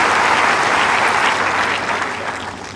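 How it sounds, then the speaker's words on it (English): Crowd applause at a women's grass-court tennis semifinal, a dense steady clapping from a large audience that slowly tapers off toward the end. "Kerber applauding her opponent."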